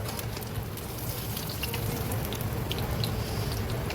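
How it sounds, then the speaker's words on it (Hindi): Pakoras fry in hot oil with a steady, dense sizzle and crackle, fairly loud and continuous throughout with no talking. "इसी तरह बाकी के भी सारे पकौड़े फ्राई कर लूँगी"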